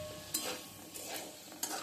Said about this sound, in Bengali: আর এখানে মিষ্টি আলু ভেজে নিচ্ছি কয়েকটা।